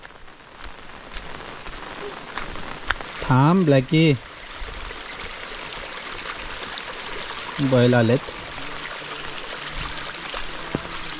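Heavy monsoon rain falling in a Konkan village, a steady close hiss of rain and trickling water that continues throughout, with a few short bursts of talking over it.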